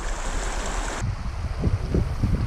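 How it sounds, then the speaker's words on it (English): Wind sweeps through a river valley in northern Utah, first as a steady hiss, then as low, irregular buffeting gusts against the microphone. "Sorry in advance about the wind in this valley."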